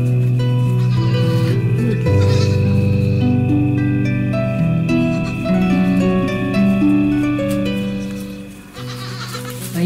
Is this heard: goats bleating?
yes